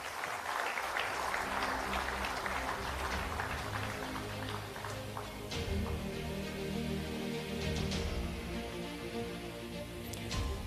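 Sustained audience applause for the Governor of the Central Bank of Sri Lanka at a capital market investment forum, a dense, steady clatter of many hands filling the hall throughout with no break.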